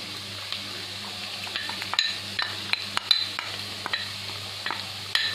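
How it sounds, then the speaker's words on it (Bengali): Potatoes fry in a pan for dry aloo sabji as a spice mix is added, with a low sizzle under intermittent clinks and scrapes of a spoon stirring against the metal pan. The sound is close and moderately quiet, with no talk. "এবার আমি যে মশলাটা বানিয়েছিলাম সেই মশলাটা আমি এই আলুর ওপরে দিয়ে দেব।"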